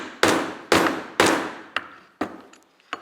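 A hammer beats a copper rivet and washer down into leather with six crisp metallic blows, three heavy strikes in steady rhythm, then three lighter, quicker taps, each ringing briefly, close and loud.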